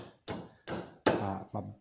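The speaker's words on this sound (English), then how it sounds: "And I'll drive it down with a dead blow hammer." Dead blow hammer giving four gentle taps to drive a replacement razor blade into a Schrade Walden 804 Whittler pocket knife, close, short dull knocks spaced about half a second apart.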